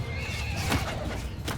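A horse neighs in Mount & Blade II: Bannerlord, a short whinny amid busy battle noise, with hooves and a dense, loud wash of background sound throughout.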